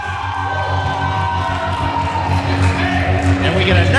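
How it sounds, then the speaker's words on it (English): A crowd at an NWA Wisconsin Spring Fever 2007 wrestling show cheers and whoops in a steady, loud roar, with a voice talking over it. "we get a nice cheer from the Baba Louie's crowd"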